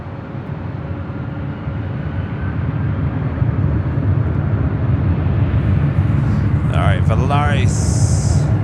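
A jet airliner roars steadily down runway 24 left at LAX on its takeoff run, a loud continuous engine rumble throughout, with a brief radio voice near the end.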